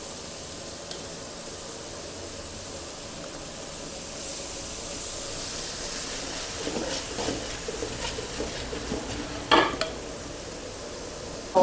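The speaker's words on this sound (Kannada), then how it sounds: "ಬೆಳ್ಳುಳ್ಳಿ ಶುಂಠಿದು ಟೇಸ್ಟು ಏನಿದೆ ಎಣ್ಣೆಲಿ ಫ್ರೈ ಆಗ್ತಾ ಆಗ್ತಾ ಅದ್ರ ಸ್ವಾದ ಬಿಡುತ್ತೆ" Garlic-ginger paste fries in hot oil in a pan, a steady low sizzle running throughout with a few brief stirring scrapes and clicks near the end, no talking.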